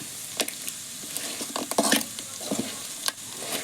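A spatula stirs chukkakaya being fried in a village cooking pan, giving irregular scraping strokes and short clatters over a soft oil sizzle, close and fairly quiet with no talking.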